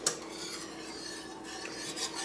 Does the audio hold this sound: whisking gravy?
yes